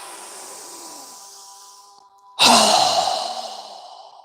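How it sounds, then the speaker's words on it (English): During a yoga breathing exercise, a long soft inhale gives way to a sudden forceful exhale through the mouth, a loud close rush of breath that tapers off, with no talking. "Again, inhale. Strong exhale."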